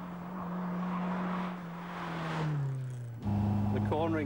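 A Lotus sports car being driven, its engine humming steadily then falling in pitch before a gear change brings a louder, rising note, heard from inside with someone talking over it.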